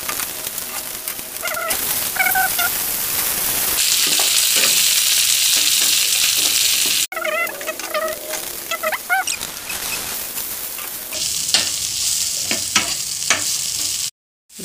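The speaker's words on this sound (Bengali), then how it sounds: "জিরে ফোড়ন দিলাম।" Cumin seeds hit hot oil in a pan with fried onions, bursting into a loud, close hiss and crackle with sharp popping spits. The sizzle swells and fades as the pan is stirred.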